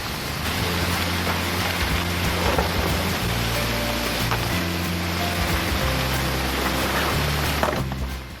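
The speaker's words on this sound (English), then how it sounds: "This falling water was getting a bit too loud, so I reconnected the pipe." Water pours from a pipe at a dam, making a loud, steady rushing roar that fills the whole stretch without a break.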